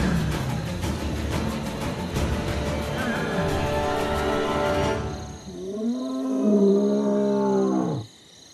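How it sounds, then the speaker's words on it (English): Lions square off with deep, rumbling roars at night in Vumbi territory, a dense continuous chorus for about five seconds, then a single drawn-out roar sliding down in pitch before cutting off. "the lions square off with their roars"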